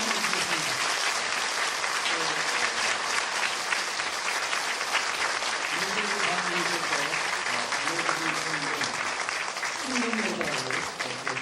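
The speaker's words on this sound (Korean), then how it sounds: "먼저 우리 모두가 우리 힘찬 박수로 우리 목사님께 선물" A church congregation at a retirement ceremony applauds warmly for their pastor, dense and steady clapping that continues without a break. Voices talk faintly beneath it.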